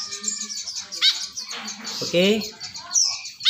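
Kekep babi birds calling with short chirps and squawks scattered across the clip, mixed in with a person talking close by.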